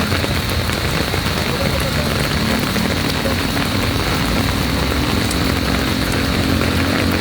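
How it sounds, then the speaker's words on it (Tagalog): Heavy rain pours at Plaza Rizal in Pasig City as a dense, unbroken hiss, with faint traffic rumble beneath. "napakalakas po sa mga oras na ito ang buhos ng ulan"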